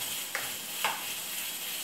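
Onion frying in oil in a pan gives off a steady, soft sizzling hiss, broken by two light scrapes of stirring.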